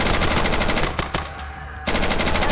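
Automatic rifle fire in the tactical shooter Insurgency rattles loud and close in rapid continuous bursts, with a short pause and a few lone shots before the firing resumes.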